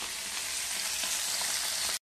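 Fish frying in a pan, a steady, bright crackling sizzle held for about two seconds before cutting off abruptly.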